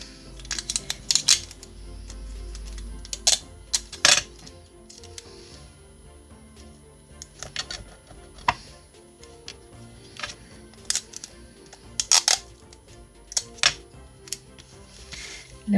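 Sticky tape sheets pressed onto a folded paper spring for a papercraft card, giving sharp crinkling and tearing crackles in scattered bursts, close and fairly quiet, with no talk.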